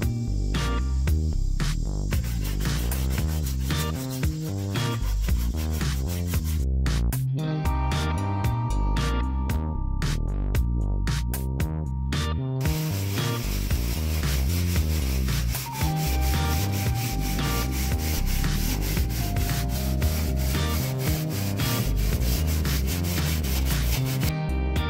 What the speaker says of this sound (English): Back to scraping and scrubbing and all of that to get that butyl tape off so we can prepare for paint.